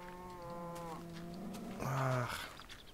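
Cows mooing in the game Minecraft: two short tonal moos in succession, the second lower and stronger, fairly quiet and alone.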